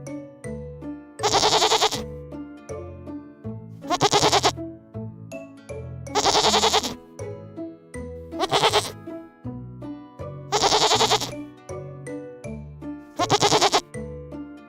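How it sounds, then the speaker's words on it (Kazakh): Goat bleating loudly and repeatedly, six drawn-out cries spaced about every two and a half seconds, each a wavering nasal call over a soft low backing. "Бұл ешкі. Ешкі ме, ме дейді."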